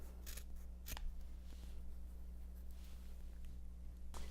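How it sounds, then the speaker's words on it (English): Scissors trimming Christmas ribbon at an angle: a few crisp, quiet snips with a pause between them over a faint steady hum. "Take your scissors and trim up at an angle."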